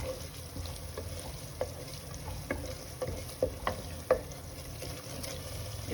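Mint and coriander leaves fry in a pan for chicken biryani, giving a low, steady sizzle broken by a handful of soft clicks and scrapes as they are stirred, fairly quiet and without voices.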